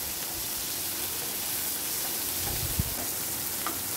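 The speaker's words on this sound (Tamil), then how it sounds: "வெங்காயம் இந்தல வதங்கினதுக்கு அப்புறமா ஒரு தக்காளி சேர்த்துருக்கேன்" Onion and tomato sauté in oil in a pan for a cauliflower dry curry, a steady close sizzle with a sharp clack of a spoon against the pan midway and faint stirring.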